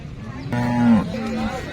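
A single cow at a cattle market in Sangola, Maharashtra, moos once, a low drawn-out call close by, over faint background noise.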